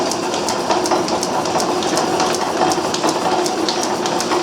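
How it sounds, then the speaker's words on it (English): A Garvin lathe runs in back gears at its slowest speed, giving a steady mechanical whir with a faint, regular clicking from the gear train. The sound is continuous and close, with no talk. "Okay, I got the back gears in now. So that's gonna be the slowest speed."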